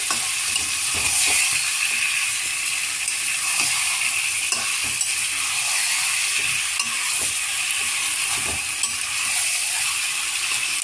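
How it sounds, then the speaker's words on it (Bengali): Chicken pieces sizzle in a hot pan while a utensil stirs and scrapes through them during home cooking of a Radhoni chicken curry. A steady hiss runs throughout, broken by scattered clicks and scrapes. "চিকেনটা পুরোটা দিয়ে দিলাম, এটা ভালোভাবে মিক্স করবো।"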